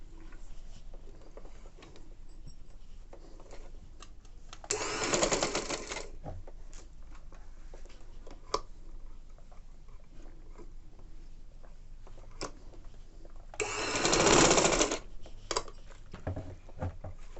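A sewing machine stitches fabric for a baby girl's top in two short whirring bursts about eight seconds apart, each lasting over a second, between quiet handling clicks and taps.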